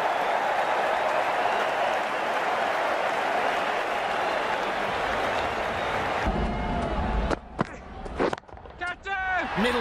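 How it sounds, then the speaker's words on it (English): Crowd noise from a Cricket 19 video game match, a steady loud roar of cheering and applause that holds for several seconds before cutting into short bursts and quieter gaps. "That's what the crowd have come to see."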